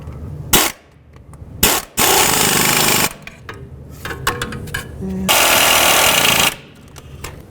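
Air impact gun tightening exhaust manifold bolts on a Toyota, firing in several loud, rattling bursts of differing length with brief clanks and pauses in between, close up.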